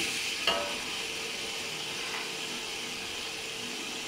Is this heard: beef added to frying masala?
yes